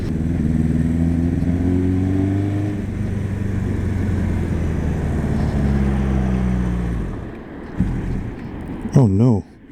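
A Kawasaki Z650 motorcycle engine drones steadily as the bike rides along a damp road, with wind rush throughout, then the engine note drops away near the end.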